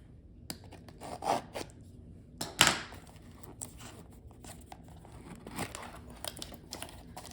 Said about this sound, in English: Everything's so like carefully bubble wrapped in this one